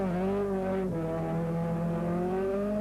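An Opel Ascona rally car, prepared in Germany, at the 1981 Circuit of Ireland Rally holds a loud, steady engine drone close by, revving with a brief dip and recovering to a sustained high note.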